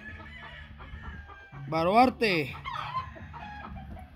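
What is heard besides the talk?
roosters clucking and crowing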